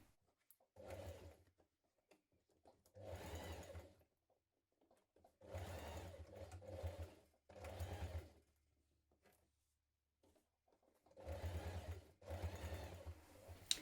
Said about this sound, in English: Change to your zipper foot and stitch this in place with a 6mm seam.